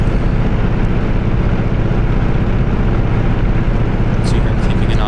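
F6F Hellcat aircraft engine on landing approach, a loud steady piston drone heard from the cockpit, constant and close, with a voice talking over it.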